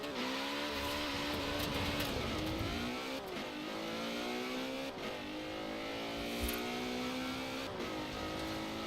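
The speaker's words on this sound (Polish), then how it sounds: "Dźwięk silnika w sumie taki też charakterystyczny dla Ferrari." A Ferrari engine in the video game Forza Horizon 4 revs steadily with rising and falling pitch sweeps, loud and continuous throughout, with a synthetic, game-like tone and no talking.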